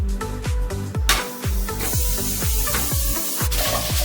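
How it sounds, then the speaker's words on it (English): Sweet onions and ginger grill in a pan with a constant close sizzle and hiss, while rhythmic repeated knocks or taps keep a steady beat underneath. "Now we are going to grill some sweet onions on the pan"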